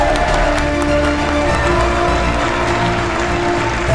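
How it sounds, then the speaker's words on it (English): A crowd at a hackathon grand finale in Cape Town applauds a winning team, a continuous loud wash of clapping and cheering with steady tonal background sound from the venue throughout. "Please give a massive round of applause for Gene EOS."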